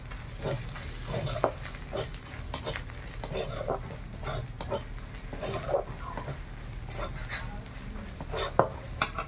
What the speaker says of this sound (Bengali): সব ভালো করে ভেজে নিয়েছি,